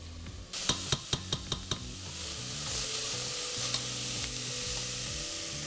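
Onions sautéing until opaque, opening with a quick run of about six sharp spoon taps on the pan rim, then a steady close sizzle with soft stirring scrapes.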